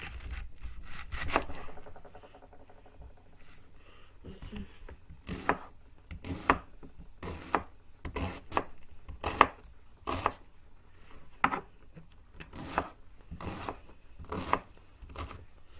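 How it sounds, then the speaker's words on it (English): A knife chops through a cabbage on a cutting board in a home kitchen, giving a steady run of sharp, close thuds that speed up into a regular rhythm, with no talk over them. "So now I'm gonna cut a cabbage. Let's cut it."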